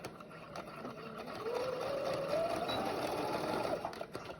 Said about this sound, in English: Just as close as I can, I'll stitch it to the wire, but not going over the wire.